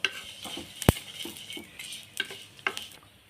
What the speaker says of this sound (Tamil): இதை நல்லா வறுத்துக்கலாங்க நல்லா பொரியும்